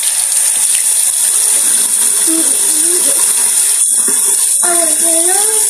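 Water runs steadily from a tap for washing off makeup, a loud continuous hiss that fills the whole stretch, with a few faint knocks and squeaks over it and no voices.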